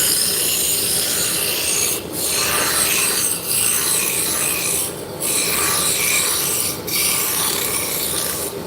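A roughing gouge shaves a spinning wood blank on a lathe while shaping a Turkish drop spindle, giving a steady, loud, close scraping hiss that dips briefly every second or so as the tool shifts.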